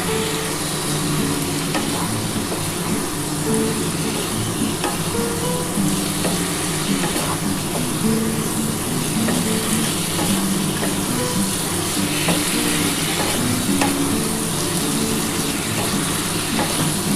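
Spiced masala water goes into a pan of bubbling katla fish curry with vegetables, a loud dense sizzle and watery bubbling that runs steadily throughout, with faint clinks of stirring underneath.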